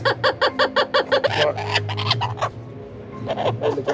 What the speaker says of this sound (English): So he's what's known as a laughing kookaburra.